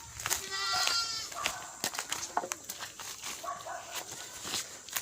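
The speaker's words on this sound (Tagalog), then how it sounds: "Kambing pa guys." A goat bleats several times near a pen in a Batangas forest, with wavering cries early on and again later, mixed with scattered thumps and brief speech.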